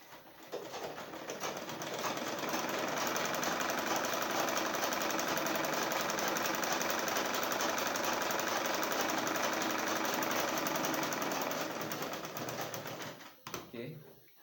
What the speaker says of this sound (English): We are going to sew it down.